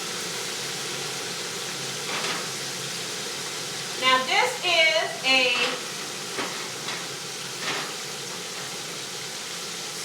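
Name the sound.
shrimp frying in oil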